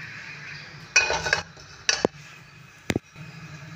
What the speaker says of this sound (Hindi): और प्रेशर कुकर को फ्लेम पे रख देना है हमने